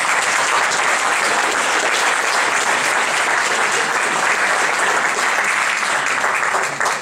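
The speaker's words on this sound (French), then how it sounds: "Vous pouvez applaudir." A full room claps without pause at a political party's new year address, loud and sustained applause filling the hall for the whole stretch and tailing off slightly at the very end.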